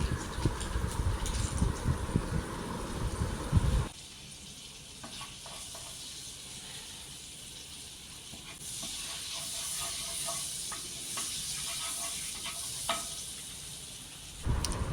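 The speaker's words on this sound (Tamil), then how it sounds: "வெண்ணெய் நல்லா உருகி வந்ததுங்க" Soft continuous sizzle and hiss of butter melting in a hot pan, steady throughout, with rougher clattering noise at the start.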